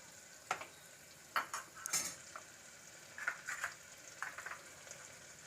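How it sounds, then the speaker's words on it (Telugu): Chana dal and urad dal with cumin and mustard seeds frying in a pan, stirred with a spoon: soft sizzling under irregular scraping and clinking strokes of utensil against the pan, close and fairly quiet, with no talking. "శనగపప్పు మినప్పప్పు ఇలా వేసి కొంచెం లైట్ కొంచెం లైట్ బ్రౌన్ కలర్ వచ్చే వరకు ఇలాగా కలే పెట్టుకుంటూ ఉందాము"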